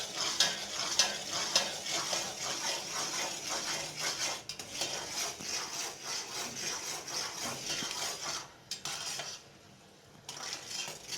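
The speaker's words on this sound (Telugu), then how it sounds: "కలుపుతూ ఉండాలి బాగా." A spoon scrapes and stirs food in a pan while making kobbari lowjulu, a coconut sweet, giving steady rhythmic scraping over a soft sizzle that drops away briefly near the end.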